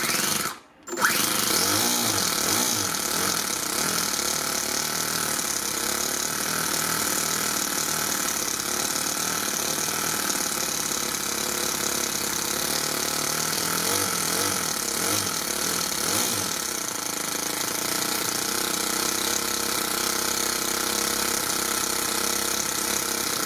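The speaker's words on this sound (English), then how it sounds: "I sure as hell like this little engine." A small engine runs steadily and loudly up close, a continuous mechanical drone with rattling, hammer-like pulsing that holds for the whole stretch after a brief dip at the start.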